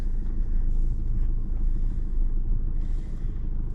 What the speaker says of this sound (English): I can see a vehicle coming towards me